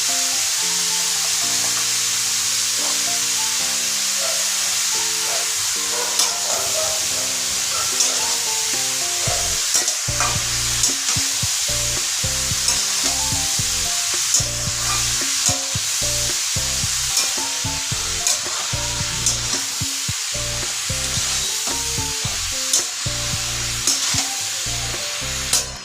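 Cabbage cooked with an ilish fish head sizzles in a pan as salt, turmeric, chili powder and cumin are stirred in, with continuous frying hiss and repeated close scraping of the spatula, no talking.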